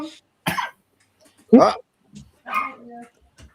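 A dog gives a few sharp, loud barks and yelps in separate bursts spread across a few seconds, close by in an otherwise quiet outdoor setting beside a koi pond.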